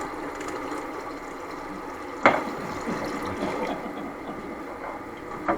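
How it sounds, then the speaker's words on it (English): Boiling water is poured into a pan of water while poaching eggs, a steady gurgling, splashing flow with a sharp clink partway through and faint kitchen hum around it. "I'm just going to sort of heat this water up a little bit more with this boiling water from earlier."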